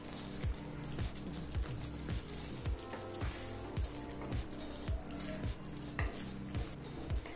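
Paneer is stirred into a simmering butter masala gravy, making a soft bubbling sizzle broken by regular thumps and scrapes of a spoon against the pan, repeated roughly every half second. No voices are heard.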